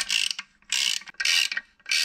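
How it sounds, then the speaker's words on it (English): A hand ratchet clicks rapidly in four bursts with short pauses, tightening clutch bolts on a VR5 engine, close and alone without talk. "I'll go back and put Loctite on all these, and then we'll torque them down"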